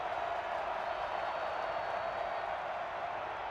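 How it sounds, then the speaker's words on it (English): A college football stadium crowd at a North Dakota State home game rises to its feet on a third down, a steady, broad roar of cheering that fills the whole stretch without letting up. "The crowd comes to their feet on 3rd and 4 from the 28."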